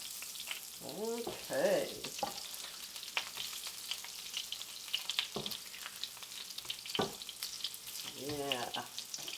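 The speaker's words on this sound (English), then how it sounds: "our zucchini and squash has been frying another couple of minutes" Zucchini and squash frying in a pan for a gluten-free egg scramble, a soft continuous sizzle with occasional stirring clinks, and a person speaking briefly over it.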